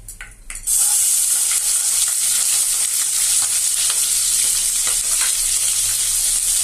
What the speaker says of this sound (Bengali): এখন এই ভাজা তেলের মধ্যে আমি আমার পেঁয়াজ কুচিটুকু দিয়ে দিব।